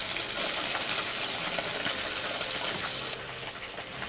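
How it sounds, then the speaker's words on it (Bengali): Fish deep-frying in hot oil on a high flame, a loud, dense and continuous bubbling sizzle with no break. "মোটামুটি হাই ফ্লেমের মধ্যেই মাছগুলো ভাজা হবে"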